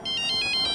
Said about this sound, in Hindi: सर गोविंद खबरी का फोन